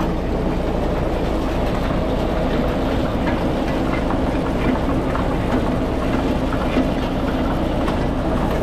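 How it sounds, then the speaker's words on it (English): Sawmill driven off the PTO of a roughly 90-horsepower tractor, running as a constant loud mechanical drone and rumble with rattling, heard alone without talk. "We got it hooked to about a 90 horse tractor, hooked up to a PTO, drives the blade and spins the hydraulic motor"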